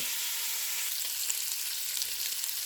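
Sausage searing in a hot pan for a sausage, potato and kale soup: a steady, close, hissing sizzle with faint crackles, continuous and alone without talk.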